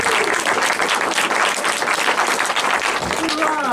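Loud, sustained applause and cheering from a live audience at an evening talk event in Eastbourne, dense clapping filling the whole stretch without a break.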